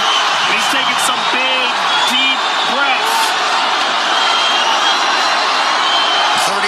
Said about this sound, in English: Crowd goes bananas as McGregor gets upright